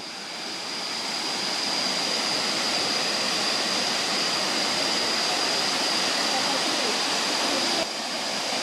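Saeng Chan waterfall in Ubon Ratchathani roars in the rainy season, a steady, loud broadband rush of falling water that holds unbroken throughout and dips slightly near the end.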